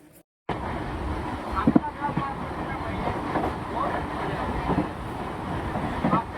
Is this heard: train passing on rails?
yes